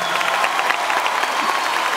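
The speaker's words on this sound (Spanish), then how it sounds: "el aplauso para ellos que estuvieron siempre" Crowd applause at a rock concert in a stadium, a steady dense clapping wash with some cheering, fairly distant and filling the whole moment without talk.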